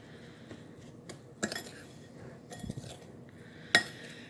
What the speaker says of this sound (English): all you're going to do is mix all this wonderfulness together